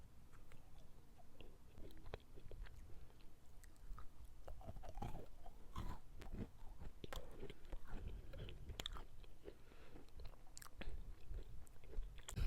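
Close, quiet ASMR chewing and biting of food, with soft crunches and wet mouth sounds in an irregular rhythm, heard alone.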